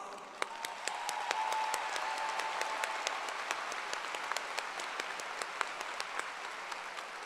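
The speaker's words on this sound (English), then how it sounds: "We thank you and applaud you for your sacrifice." Steady applause from a sizable crowd at a high school graduation, dense clapping sustained throughout at moderate volume with no talking.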